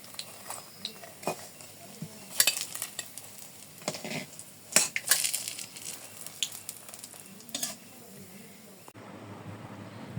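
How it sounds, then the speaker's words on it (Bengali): Bread and egg balls fry in hot oil in a wok, giving a steady crackling sizzle with scattered louder pops and some clattering of utensils, heard up close throughout. "কড়াইতে তেল দেওয়া হয়ে গেছে, এই যে এখন আমি একটা একটা করে দিয়ে দেবো।"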